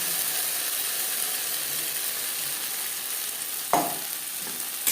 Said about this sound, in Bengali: পেঁয়াজ টমেটোর সাথে শিম বেশ ভালো করে মিক্স করে দেবো।